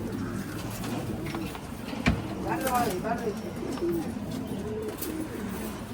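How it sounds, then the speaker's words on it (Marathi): Pigeons coo softly in low, rolling phrases against a steady background hum, with faint chirps and a brief thump partway through; the oldest bird of a keeper's flock. "सगळ्यात जुना कबूतर आहे आपला"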